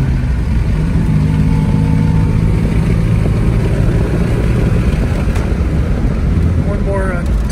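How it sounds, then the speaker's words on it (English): Cabin sound of a 1971 Volvo 144 S accelerating, a steady mid-pitched engine hum and road rumble under continuous talking, with the drone shifting as gears change. "Got nice acceleration."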